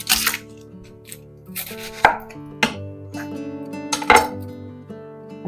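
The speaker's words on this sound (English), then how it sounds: "I plan on dicing this fairly fine, so I'm cutting thin slices." A knife cuts thin slices through onion, celery and a spicy pepper on a cutting board, with a few distinct sharp chops and board knocks spaced irregularly and nobody talking.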